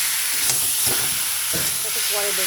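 Water poured into a pan of fried masala with salt for a fish curry, giving a loud steady hiss and sizzle throughout while a person speaks briefly.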